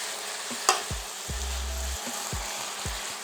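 Chicken stir fry with dark soy sauce sizzles softly in a pan while a spatula scrapes and tosses it in several distinct strokes, one longer scrape in the middle, close by; no talk.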